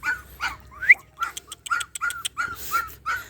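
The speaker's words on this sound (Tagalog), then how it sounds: "Tingnan natin yung aso. Yung tuta." Puppies yelp and whimper in quick, high-pitched bursts, several short cries in a row, close by outdoors beside a coconut tree in a rural garden.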